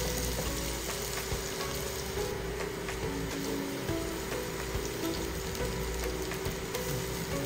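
Six cloves of minced garlic browning in a pan crackle and sizzle steadily, a fine rain-like hiss that runs evenly throughout.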